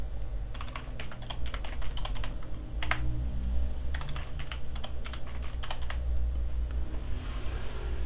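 Keystrokes on a computer keyboard while a password is updated, a quiet, irregular run of clicking taps over a steady low background hum and a faint high whine.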